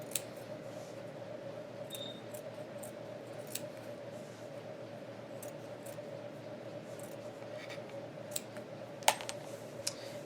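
Scissors snipping through fabric to cut ridges for a knotted blanket: scattered sharp little clicks and crisp cuts over a steady low hum, fairly quiet and close, with no voices.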